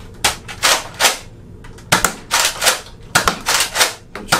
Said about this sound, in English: This is a Nerf dart gun.